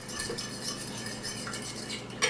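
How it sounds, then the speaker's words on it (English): A fork clinks and scrapes quickly against the side of a bowl, whisking an egg mixture for French toast in steady, rapid strokes up close, with a sharper tap at the end. "So if you just give it a little mix, then everything will come back up again."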